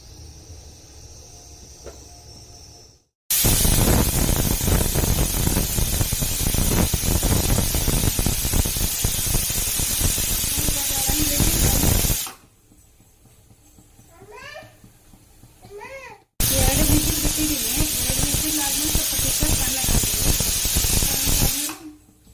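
A pressure cooker cooking spinach rice bath hisses loudly in two long, forceful bursts of steam, separated by a quieter pause with faint chirps and clinks.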